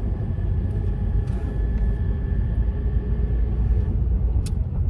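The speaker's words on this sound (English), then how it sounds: "Car's really loud" A loud car engine rumbles steadily and close by, a low, heavy drone that holds throughout with no voices.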